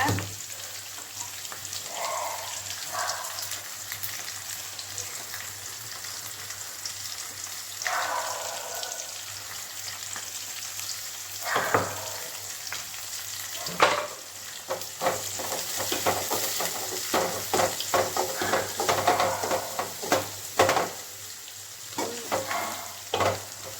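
Tomatoes sauté in a frying pan with a continuous sizzle and a low background hum, and stirring scrapes grow busier and more frequent toward the end, with no speech.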